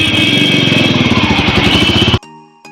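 A motorcycle engine runs loud and close with a steady, throbbing pulse as the ride begins, then cuts off abruptly near the end, leaving a faint tonal hum.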